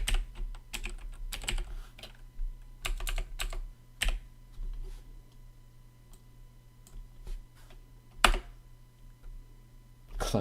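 Fast typing on a computer keyboard during a coding session, with clusters of quick key clicks and louder isolated strikes over a steady low hum, close and alone with no voices.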